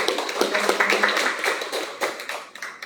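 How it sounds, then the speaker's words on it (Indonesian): Audience applause follows a candidate's answer at a student election debate, a dense, steady patter of many hands clapping close by, fading slightly toward the end. "Kami beri tepuk tangan kepada."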